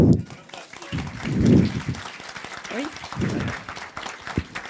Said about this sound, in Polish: Państwa proszę o gorące oklaski dla Pani w czerwonej koszulce